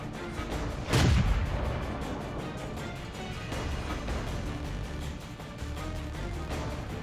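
A T49 tank fires its gun in World of Tanks, a single loud booming shot near the one-second mark that rolls into steady low battle rumble with scattered distant impacts.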